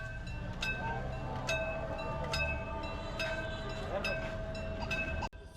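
A train approaches a level crossing in Narsingdi, Bangladesh, with a low steady rumble under a regularly repeating bell-like ding and sustained tones, ending in a sharp knock.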